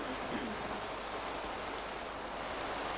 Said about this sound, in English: Still raining, is it?